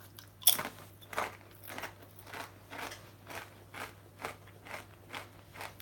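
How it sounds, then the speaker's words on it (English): Someone eats crisps close to the microphone with a loud first bite, then about eight evenly spaced crunching chews, heard alone. "Whilst I eat my crisps."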